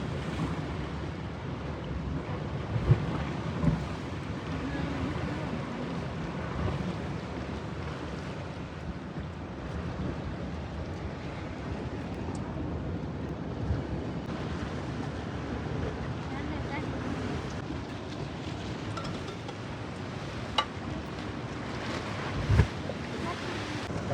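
Steady wind buffets the microphone by a seashore while waves roll in the background, a constant low rumble with occasional thumps of gusts.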